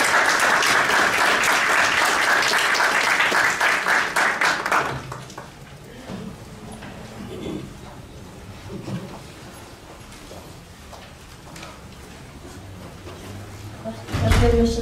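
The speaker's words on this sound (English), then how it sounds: "Let's give Ms. Chissell another round of applause." Hall audience at a health lecture gives loud sustained applause for about five seconds, which then drops away to quiet room noise with scattered movement and a brief swell of clapping at the very end.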